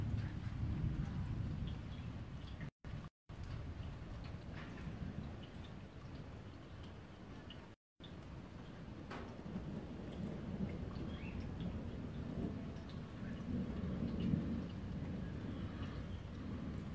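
Thunder rumbling over steady rain from a severe thunderstorm passing through South East Queensland, low booms rolling continuously beneath the patter of rain and drips, with a few sharp cracks standing out.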